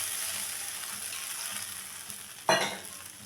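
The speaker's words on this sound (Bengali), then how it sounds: "পরিমাণ মতো জলটা দিয়ে দিলাম।" Water is poured into a hot pan of thin fish curry with eggplant and green chilies, setting off a sudden loud hiss over the steady background sizzle of frying.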